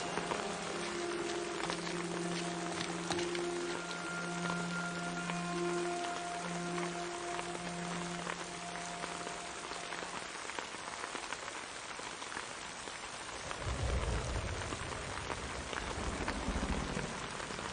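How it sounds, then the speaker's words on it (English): A heavy rain downpour keeps up a steady dense patter, while tonal music or hum sounds beneath it for the first part and a deeper rumble swells near the end. "Quite the deluge, isn't it?"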